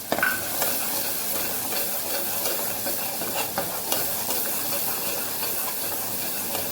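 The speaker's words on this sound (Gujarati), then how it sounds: "ટમેટા સાથે સરસ આપણે મસાલાને સાતડી લેવાનું છે" Chana dal masala sautéing with tomatoes, turmeric, coriander-cumin powder and salt, a loud continuous sizzle and hiss with frequent stirring clatters close to the pan.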